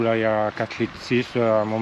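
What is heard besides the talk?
No everyday noise stands out behind the speech.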